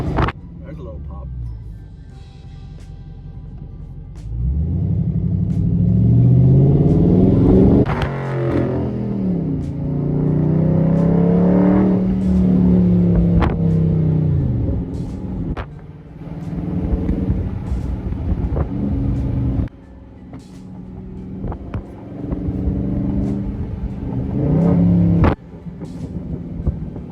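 A 2021 widebody Dodge Charger with mid muffler delete revs up with a deep rising exhaust roar and pops, under wind buffeting and someone talking over it.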